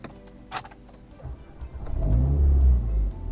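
A 2022 Alpine A110 starts up: a faint electric whir and click, then the engine catches and swells into a deep, loud idling rumble close by.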